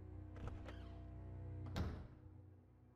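A door swinging open in RuneScape 3 with a soft click early on, then a solid thunk near the middle, set over a steady low hum of game ambience.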